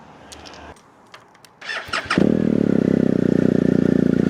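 A 2019 BMW R 1250 GSA motorcycle starting after an air filter change: a few clicks and rising starter whirrs, then the boxer engine catches and settles into a loud, steady, rapid idle.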